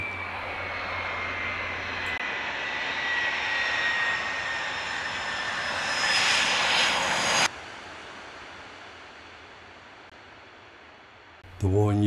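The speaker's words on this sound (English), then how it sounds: "a Royal Norwegian Air Force F-35A is approaching the landing area on a highway in Finland for the very first time" A Royal Norwegian Air Force F-35A jet approaches a landing on a tree-lined highway in Finland, a loud sustained roar that swells and rises in pitch, then cuts abruptly and leaves a fading rumble.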